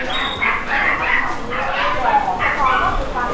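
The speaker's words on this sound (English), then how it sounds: "Loads of dogs in here." Several dogs, including caged XL Bully types at a Thai market, yipping, whimpering and barking in close, overlapping bursts, with a busy market hubbub around them.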